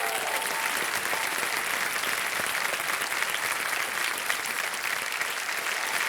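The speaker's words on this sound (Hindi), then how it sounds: "तालियां बज जाए इनकी।" A television quiz show studio audience applauds in a continuous, even wash of clapping that stays loud and steady throughout, with no voices cutting through.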